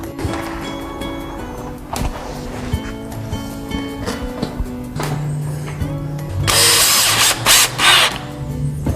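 Power drill driving 5/8 inch screws into a Murphy wall bed, heard as several short whirring bursts with ratcheting pauses between them, close and fairly loud, ending in a louder high-pitched run.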